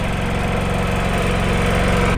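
A small inverter generator runs steadily at an off-grid house build site, giving a loud, continuous engine hum with an even drone and no pauses.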